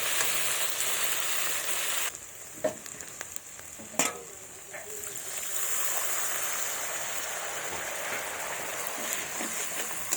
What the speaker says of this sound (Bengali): এবার ভালোভাবে কষাবো যতক্ষণ না তেলটা ভালোভাবে ছেড়ে দেয়।